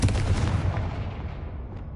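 A Confringo blast spell explodes in the video game Hogwarts Legacy: a loud, dense booming burst with heavy low rumble that decays over about two seconds.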